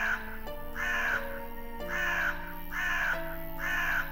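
Crows caw in the Midnight Scenes: The Nanny video game, giving a steady run of about five harsh calls at a regular pace over a low sustained musical drone.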